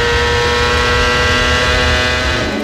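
A CART Indy race car engine roars steadily at high revs at the 2000 Molson Indy Toronto, loud and continuous, with a sustained mechanical whine and no voices.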